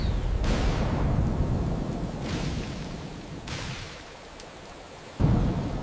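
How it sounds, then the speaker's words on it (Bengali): Cartoon thunderstorm sound effect over a village, steady rain hiss broken by several loud thunder cracks, the last one sharp and sudden. "শান্তিপুর গ্রামে হঠাৎ করে ঝড় বৃষ্টি হতে শুরু করলো।"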